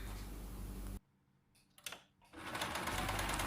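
A sewing machine runs in steady bursts while a kurti jacket is stitched, with a short quiet pause in the middle before the loud whirring resumes.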